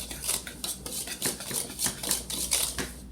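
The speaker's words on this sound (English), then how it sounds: "sugar to 1 cup of flour. And I'm going to whisk those." Sugar and flour get whisked in a bowl, a quick rhythmic clinking and scraping of wire against the bowl, repeating strokes heard up close and fairly faint.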